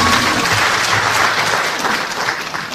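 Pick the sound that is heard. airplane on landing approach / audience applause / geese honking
audience applause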